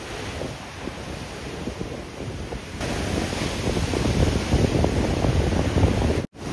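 Ocean waves breaking at Chuam beach beneath a mesh-floored suspension bridge, a continuous surf wash mixed with wind buffeting the microphone, growing louder midway before a brief dropout near the end.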